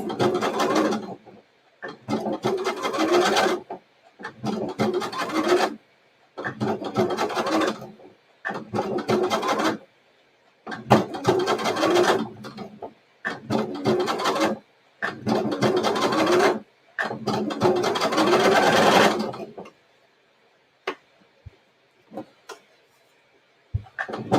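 Domestic sewing machine stitching elastic shirring onto a top, running in repeated bursts of steady stitching, each a second or two long, separated by brief pauses, close and fairly loud, ending in quieter handling noises.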